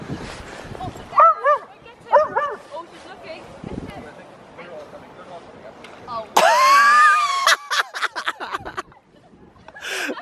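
Small dog by a river barking and yipping in short bursts, with whimpers and a louder excited stretch midway, close by while people talk around it.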